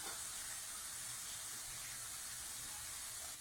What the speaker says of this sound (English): You can see it's like sizzling at the edges now.